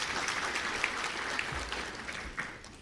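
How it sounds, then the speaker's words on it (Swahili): Applause at an official government event where funds are received, a faint, steady patter of many hands clapping from a distance. "Naomba tumpongeze kwa makofi mengi sana."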